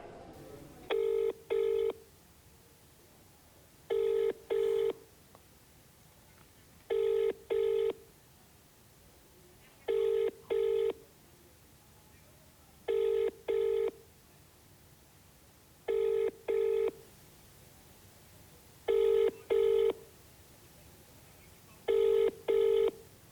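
A phone call placed to a legislator rings out in eight evenly spaced double-burst rings, each pair of tones clear and moderately loud over a quiet line hiss, with no one answering.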